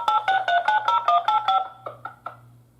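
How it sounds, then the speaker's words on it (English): Security alarm panel's DACT dialing out on the phone line, a run of about a dozen rhythmic clicks and tone bursts at a steady pace, then a few sparser clicks over a low hum, moderately quiet and without voices. "the panel is currently trying to attempt to dial the alarm"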